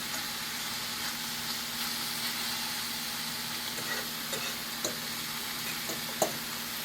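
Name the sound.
turkey sausages sizzling and being turned in a pan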